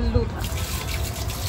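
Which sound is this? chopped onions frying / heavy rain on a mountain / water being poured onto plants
water being poured onto plants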